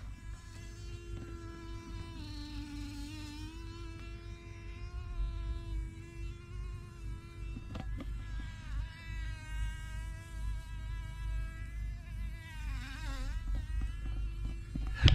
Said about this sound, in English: has the bee given up? Hang on, you need to come back.